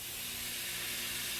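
Bacon for a linguine carbonara sizzles in a pan with a steady, even, hissing frying sound throughout, close and uninterrupted, with no voices.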